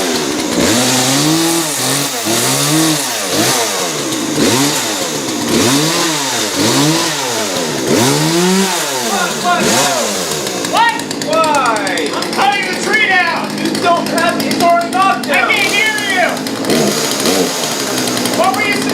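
A chainsaw being used to cut down a Christmas tree revs in repeated surging bursts, loud and close, then settles into a rougher idle while people talk over it.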